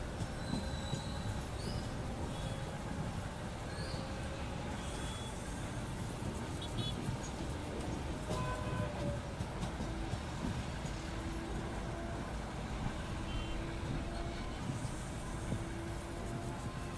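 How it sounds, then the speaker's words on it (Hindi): A local train rolls along a Mumbai suburban railway line on the Borivali–Churchgate slow route, a continuous rumble of wheels and carriages with faint squeals, heard steadily from trackside with no break. "कोई ट्रेन आ रहा है कि इधर से"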